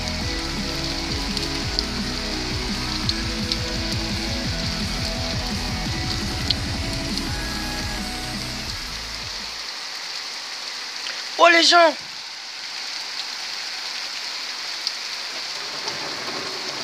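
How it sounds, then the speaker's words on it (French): Steady rain patters and hisses on a surface throughout, with a dense low rumble dropping away about midway, a brief sharp burst near the twelve-second mark, and a short exclaimed voice heard over the downpour. "Oh la pluie!"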